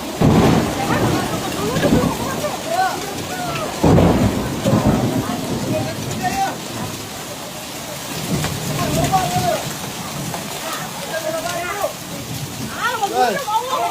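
Hail storm with strong wind and thunder in Pandeglang, with dense hail and rain pelting surfaces, gusting wind and several loud thunder rumbles, while people talk and exclaim throughout.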